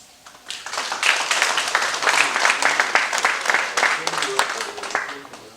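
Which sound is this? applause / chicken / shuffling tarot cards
applause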